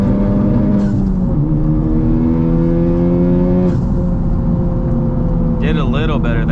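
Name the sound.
Honda Civic Type-R engine revving at full throttle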